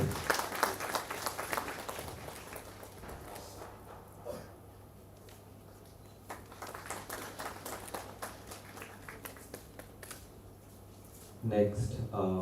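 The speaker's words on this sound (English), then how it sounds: "Let's have a round of applause, everyone." Scattered, moderate applause rises and fades in bursts from a university induction audience as a guest is honoured, with quieter gaps between rounds and a louder flurry near the end.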